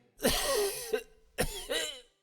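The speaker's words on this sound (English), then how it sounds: "My throat is grown sore, and I cough day and night." A character in the game Astrologaster coughs and clears his throat in two close, harsh bursts separated by a short pause.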